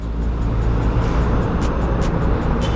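Road traffic heard from a moving Suzuki Burgman 125 scooter in slow traffic near a bridge, a dense steady rumble of engines and tires with wind noise, close and loud throughout.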